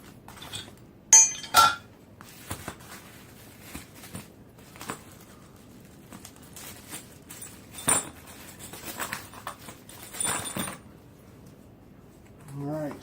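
Metal bolts, pins and washers from a cooler wheel kit clink and rattle as they are handled, with scattered close jingles and taps, some louder bursts and quiet gaps between them.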